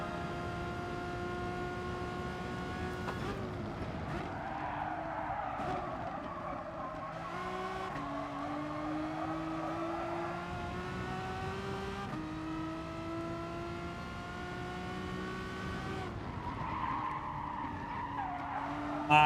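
Renault Megane race car in GT Sport, engine note rising and falling through gear changes with tire skidding and squeal on corners, loud and continuous with no talking.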